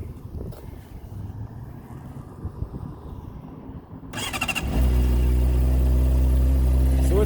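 A motorcycle with 12,700 miles is cold-started in a parking lot: quiet rumble first, then at about four seconds the engine catches and settles into a loud, steady idle that holds to the end.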